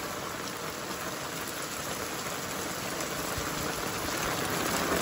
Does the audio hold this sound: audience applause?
no